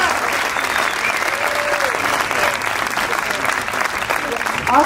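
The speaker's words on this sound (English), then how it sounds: "A big round of applause, too, please, for the candidates for participating." Dense, sustained applause from a crowd after a political debate between party candidates, loud and continuous like a wash of many hands, with no talk over it.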